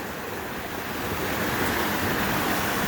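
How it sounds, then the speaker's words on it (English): A small waterfall at Dunn's Falls in Maine rushes in a steady, dense, close roar of falling water, unbroken for the whole stretch with no voices. "looking up, a neat little waterfall there"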